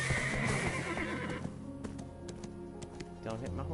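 A horse in the PS4 Pro game Black Desert Online lets out a loud, descending whinny at the start, followed by lighter hoof clip-clops and small tapping game sounds.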